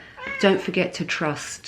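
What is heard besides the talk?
cat meowing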